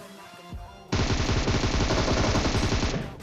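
Enemy automatic gunfire in the PUBG Mobile video game erupts suddenly as a loud, continuous rapid burst of shots lasting a couple of seconds, following a quieter lead-in.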